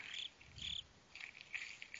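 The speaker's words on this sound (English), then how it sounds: "I hear crickets." Crickets chirp in short, buzzing trills in a Slender video game, repeating in bursts over a quiet background, faint and steady.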